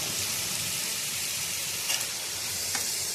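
Potatoes frying in a pan give off a steady, close hiss of sizzling oil, with a couple of brief scraping stirs breaking through near the end.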